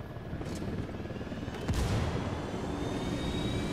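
Helicopter in the video game Ghost Recon Wildlands, a steady loud rotor and engine drone that swells slightly midway, with game gunfire-like bursts mixed in and no talk over it.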